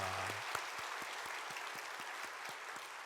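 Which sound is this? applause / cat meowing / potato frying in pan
applause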